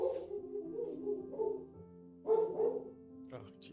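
A dog barks up close in a few short bursts, mixed with voices talking over it in a room.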